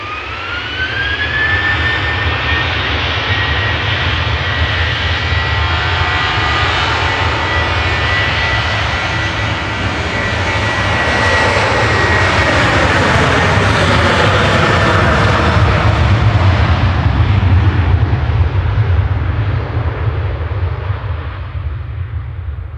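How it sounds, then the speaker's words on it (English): Ryanair jet airliner departing Manchester Airport: loud sustained jet engine roar with a descending whine, swelling in the middle as the aircraft passes, then fading, with no talk. "Ryanair departing now though to Memmingen."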